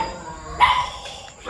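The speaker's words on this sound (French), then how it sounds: "Le chien." A single short dog bark, fairly close and moderately loud, rising briefly out of a quiet background before fading.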